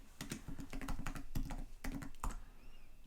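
Fingers tap quickly on a computer keyboard in uneven bursts of clicks, close up, ending with a firmer keystroke and a brief pause.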